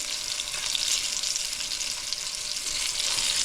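Venison backstrap sizzles steadily in a hot pan at hunt camp just after being flipped, a loud, continuous close-up frying hiss with no talking.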